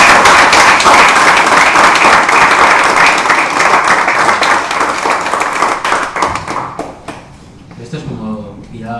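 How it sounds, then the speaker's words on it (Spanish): An audience at a bookshop author interview applauds Marcelino Izquierdo with sustained, dense clapping that gradually thins and fades, followed by a voice starting to speak near the end. "yo les pido un aplauso para Marcelino y para la editorial"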